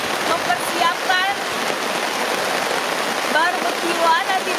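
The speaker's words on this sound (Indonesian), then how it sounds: "ini hujan gede banget hujannya" Heavy rain pours down at a tent on the Highland Camping Ground, a dense, steady hiss of drops filling the whole scene, with a faint voice and occasional chirps underneath.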